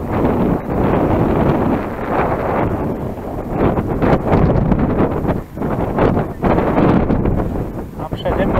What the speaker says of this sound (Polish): Ale chłodny, fajny wiatr.